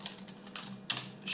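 Computer keyboard typing, soft and close, with a few quick key taps and a couple of slightly louder strokes in a short burst.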